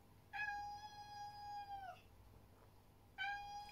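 A house cat meows twice, each call a long, drawn-out tone with a short gap between, fairly close and clear over a quiet room hum.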